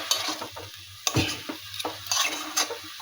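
Kadai greens and eggplant frying in a pan with light salt, a soft steady sizzle broken by several sharp scrapes and stirs of a utensil against the metal, close and alone with no voices.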